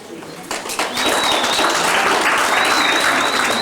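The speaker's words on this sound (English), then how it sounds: "This is how we clap." Applause from a group of people at a Cub Scouts graduation, a sudden burst of clapping that settles into steady, sustained clapping, fairly close.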